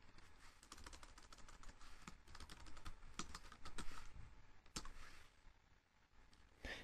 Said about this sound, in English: And we'll put this in here and just type in hello world.